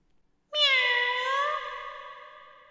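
A cat meows in the visual novel game Taisho x Alice: one long, clear, drawn-out meow that starts abruptly after a short quiet moment and slowly fades.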